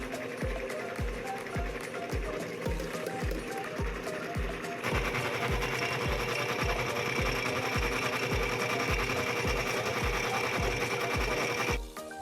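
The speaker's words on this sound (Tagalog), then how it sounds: "Isang beses ko lang po itong isinalang sa gilingan." A grinder mills soaked glutinous rice with a steady mechanical whir and a regular ticking pulse, running continuously at close range and shifting slightly in tone partway through, with no speech.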